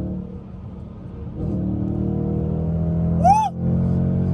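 A 2021 Dodge Challenger R/T engine rumbles close by, its deep idle swelling into a brief rev, with a short rising whistle-like tone near the end.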